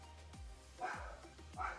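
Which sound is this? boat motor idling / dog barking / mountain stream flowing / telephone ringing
dog barking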